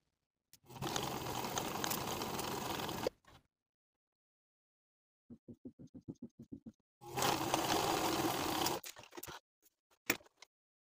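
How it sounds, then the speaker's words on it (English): A sewing machine stitches darts on trouser pieces in two loud, steady runs, separated by quieter rapid ticking of a slow hand-turned stitch, with a few clicks at the end. "Then we'll sew each of the darts from top to bottom along the stitching lines"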